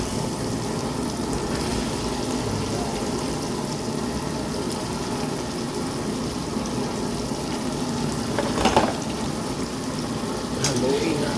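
Meat frying with cooked tomatoes in a pan, a constant moderate sizzle and bubbling with a couple of brief utensil clinks near the end.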